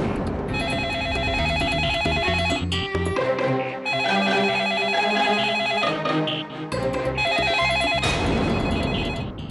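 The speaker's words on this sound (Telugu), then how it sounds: "ఇంత రాత్రప్పుడు ఫోనా?" A telephone rings at night with a repeating electronic bell tone in steady bursts and short pauses between rings. It sounds close and fills the room, with no talking over it.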